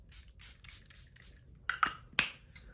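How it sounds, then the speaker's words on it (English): Charlotte Tilbury Airbrush Flawless setting spray misted onto a face: a few short, close hissing spritzes, with quieter faint rubbing sounds before them. "And I am going to spray with my Charlotte Tilbury"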